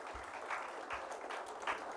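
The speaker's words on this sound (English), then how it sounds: "I think our divas deserve a huge round of applause." Audience applause for four divas at a staged event, a moderately quiet, continuous patter of clapping with a few stronger swells and low thumps, heard at some distance.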